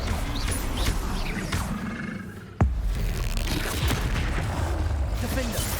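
An Incendio fire spell in Hogwarts Legacy, cast during a combat sequence, sounds as a sudden sharp crack that rises out of a steady roaring, rumbling background of battle noise.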